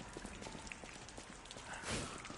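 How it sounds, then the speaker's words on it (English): Rain falls steadily on a night scene in the video game Lies of P, a dense patter of drops on surfaces with a brief louder splash near the end and no talking. "It's a rainy night"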